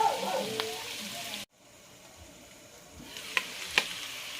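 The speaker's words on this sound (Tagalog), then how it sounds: "lutuin lang po natin yung ating mushroom siguro ng mga 2 minutes" Mushrooms cooking in a pan for chicken à la king give a steady close frying sizzle with stirring scrapes. The sizzle drops out briefly, then returns with a couple of sharp clinks.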